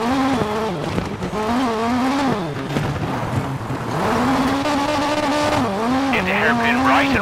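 A rally car engine in the WRC 9 game, a GR Yaris Rally Concept at Rally Argentina, roars loud and close as it brakes hard into a hairpin, revs dropping and rising with tire noise near the end, under a co-driver calling pace notes.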